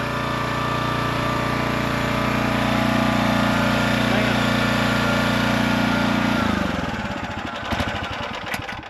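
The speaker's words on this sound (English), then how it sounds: "I can stall the motor out with hardly anything." A small engine on a robot lawn mower drones loudly and steadily at close range, then falters and dies out, leaving sputtering, uneven noise near the end.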